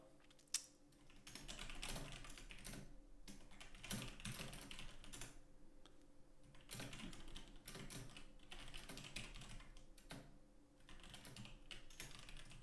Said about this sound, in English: We're typing.